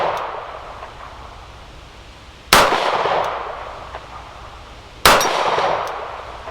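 Two sharp metallic clangs, a few seconds apart, ring out from bullets striking a steel silhouette target with a head flipper at an outdoor range, fired from a Kimber KDS9c pistol, each hit fading in a short ringing decay.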